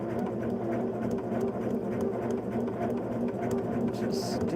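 A sewing machine runs steadily as it stitches and back stitches along a quilt block, giving a continuous, even mechanical whir that stays close and fairly loud throughout.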